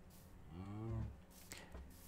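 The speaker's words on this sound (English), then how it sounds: "Oh, and I hear cows as well." Minecraft cows mooing in-game, one drawn-out low moo rising and falling with clear harmonics, followed by fainter shorter grunts amid quiet game ambience.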